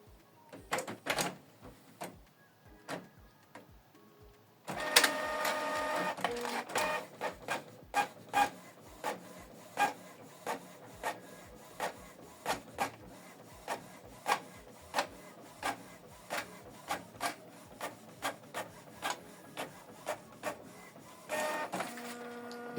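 A Canon Pixma MG3600 inkjet printer prints a document: an opening whir and feed noise, then a long run of regular mechanical clacks as the print head shuttles back and forth, with a final feed whir.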